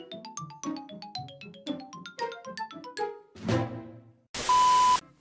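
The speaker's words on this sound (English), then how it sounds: "GameCube opening sequence." A Nintendo GameCube startup sequence plays: a quick run of bright, bouncy chime notes, a swelling chord, then a loud sustained tone at the end.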